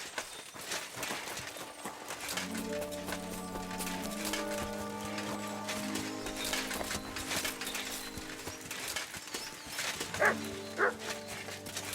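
A dog barks in the video game Kingdom Come: Deliverance II, a few faint barks set against a constant game music bed, with a couple of louder yelps near the end.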